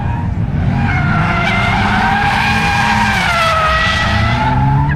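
A Mazda Miata spins out at an autocross or track event, tires skidding with a loud, sustained squeal over engine roar that wavers in pitch for several seconds.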